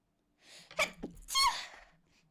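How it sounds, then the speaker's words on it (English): A single close sneeze: a quick sharp intake of breath, then a loud forceful burst that trails off into a soft exhale. "Hold on, I gotta sneeze."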